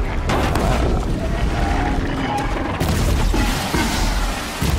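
A bomb explodes in the video game Horizon Zero Dawn, a loud sustained booming roar with rumbling crashes that swells again near the end.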